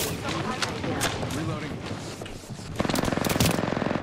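Weapon fire in the Apex Legends battle royale game, rapid automatic bursts crackling under continuous talking, growing denser and louder toward the end.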